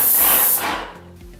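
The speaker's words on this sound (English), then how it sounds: "Now we're going to spray left to right." A Wagner Control 150M paint sprayer sprays in a left-to-right stroke, a loud, close hiss that tails off after about half a second into quieter background noise.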